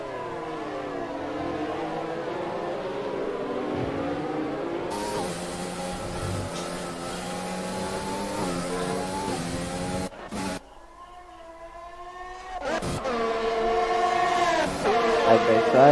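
Open-wheel F1 2020 race cars scream past, side by side, with high revving engines and a dropping pitch as one car overtakes, under steady commentary.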